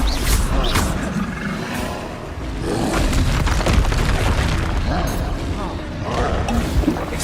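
Spells cast in Hogwarts Legacy burst and whoosh in a steady, dense barrage of booming impacts and rushing magical blasts, loud and close, while a voice keeps shouting over the effects.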